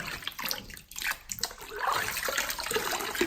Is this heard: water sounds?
yes